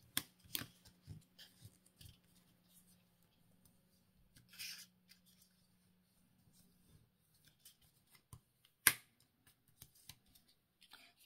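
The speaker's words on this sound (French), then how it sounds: "Et puis après, on vient marquer les plis." Paper pop-up card being folded and creased by hand, with soft scattered rubbing and pressing sounds, a few sharper crisp snaps of the paper, and a faint steady hum underneath, all quiet and close.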